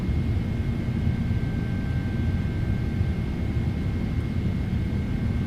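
Boeing 777 airliner engines climbing out in Microsoft Flight Simulator 2024, a steady dense roar with a thin tonal whine, constant and loud without talk.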